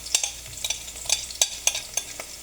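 Garlic fries in a hot pan with a steady hiss while a spoon scrapes and stirs in quick, repeated strokes, close and fairly loud, with no voices.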